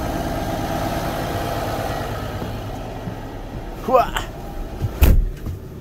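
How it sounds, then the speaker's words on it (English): A vehicle engine holds a steady high idle, a continuous low rumble with chatter and a couple of short bumps or knocks near the end. "it's been an additional hour and a half out here idling at a high idle"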